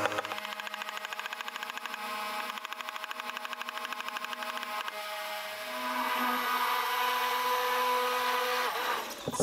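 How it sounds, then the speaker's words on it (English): A high shear mixer blends an MSM banana and orange facial serum with hyaluronic acid, giving a steady, close motor whine that runs throughout. It grows louder and rougher partway through as the powder goes in, and no one speaks. "you're going to sprinkle it in while you're high shear mixing"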